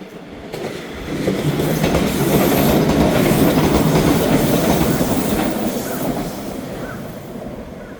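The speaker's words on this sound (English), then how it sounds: "There's one of the local trains." A local passenger train rumbles past nearby in Onomichi, Japan, steady clatter of wheels swelling and then fading over several seconds.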